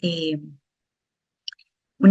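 A computer mouse gives a single soft click, faint and isolated in a quiet gap between stretches of talk.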